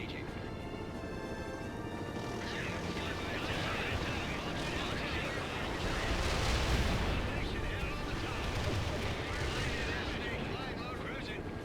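Battlefield combat in the video game World in Conflict, set in New York: dense gunfire and booming artillery blasts swelling over a constant roar, with radio-style unit voices talking over the din.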